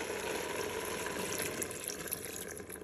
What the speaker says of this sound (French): je vais rajouter mes 15 centilitres d'eau